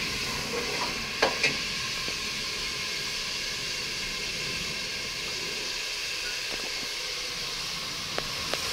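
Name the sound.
masala meat sizzling while cooking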